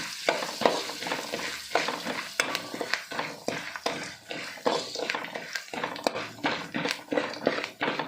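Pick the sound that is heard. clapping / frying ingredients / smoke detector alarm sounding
frying ingredients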